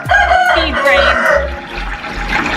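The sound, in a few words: chickens clucking and rooster crowing on a farm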